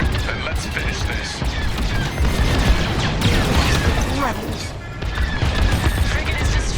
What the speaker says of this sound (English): Frigate is destroyed.